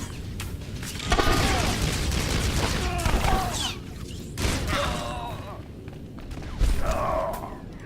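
Bursts of a cryo gun firing in SWTOR, a Star Wars sci-fi game, loud and repeated in three or four volleys, with chirpy electronic tones under ongoing game noise and voices.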